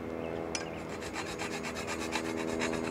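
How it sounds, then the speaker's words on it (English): A metal file rasps across snipped wire ends during a garden greenhouse installation, giving steady back-and-forth strokes that run close and continuous, with one sharp click near the start. "And then take your file"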